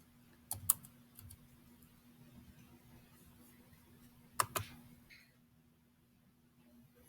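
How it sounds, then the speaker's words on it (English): Quiet computer keyboard typing of a name: a few soft key clicks in short clusters, near but faint, separated by near-silence over a low steady hum. "you're going to be able to type in the person's name or email"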